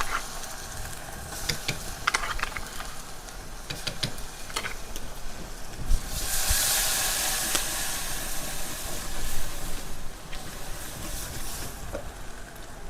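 Crushed ginger, green chili and garlic hit a hot pan at a farm cooking setup, giving a close, steady sizzle and hiss with scattered clicks and a brief louder burst of steam near the middle, no voices.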